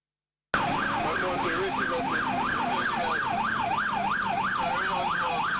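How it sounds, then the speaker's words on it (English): A wailing ambulance siren sweeps up and down steadily and loudly, close by, with traffic rumble underneath. "the flashing lights and siren of an ambulance"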